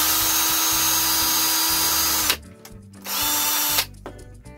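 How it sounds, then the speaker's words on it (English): A power drill with a 1/16 inch bit whines loudly and steadily for a couple of seconds while drilling holes, stops, then runs again briefly before cutting off, close up. "Try to drill my holes."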